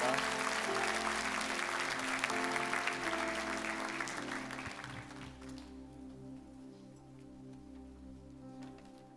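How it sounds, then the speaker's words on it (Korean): A church congregation applauds loudly, with dense, rain-like clapping filling the first half before it fades down and trails off, leaving a quieter tail. "우리 큰 박수로 이 귀한 그 생명을 축복해 주시기 바랍니다."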